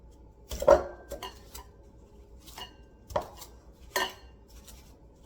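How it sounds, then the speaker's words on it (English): Irregular clanking and scraping of a metal pastry blender pressing through butter and sugar in a bowl, several close knocks spaced a second or so apart. "Pastry blender, I think is what it's actually called."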